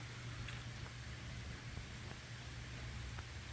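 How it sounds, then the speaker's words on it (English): Steady rain falls outdoors during a thunderstorm, a soft continuous hiss with a low hum underneath and a few scattered drop ticks, faint and even throughout with no talking. "The rain has not stopped yet."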